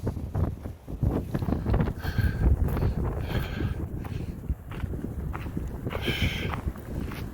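Strong wind buffets the microphone on an exposed mountain trail saddle along the Pacific Crest Trail, a steady rushing roar with gusty swells and scattered footstep-like crunches close by.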